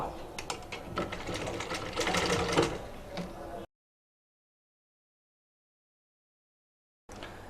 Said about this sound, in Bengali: এই মাপ অনুযায়ী রেখে পট্টির কাপড়ের উপর একটা সেলাই করব